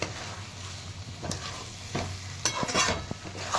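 A spoon scrapes and stirs coarsely crushed peanuts into tomato chutney in a pan, with several sharp clinks and scrapes over a soft background sizzle.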